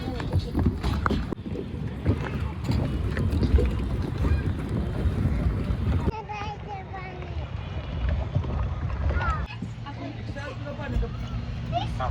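A boat on Rankala lake in Kolhapur, with its water and engine noise mixed into steady wind buffeting the microphone and a crowd of people chatting close by throughout.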